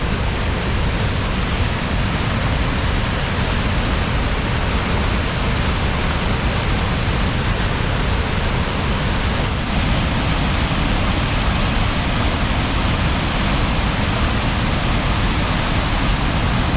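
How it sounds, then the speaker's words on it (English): Root Beer Falls, a tannin-stained waterfall in Michigan's Upper Peninsula, pours in a steady, loud, broadband rush that stays constant throughout with no voices over it. "This waterfall is even nicknamed Root Beer Falls due to the color."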